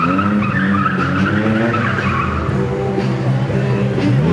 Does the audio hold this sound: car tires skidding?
yes